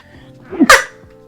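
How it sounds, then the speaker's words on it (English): A single sharp human sneeze with a short in-breath before it, close and loud against quiet room tone. "I sneezed."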